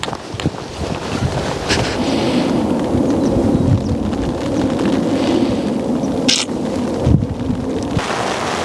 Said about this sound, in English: the rain's getting heavy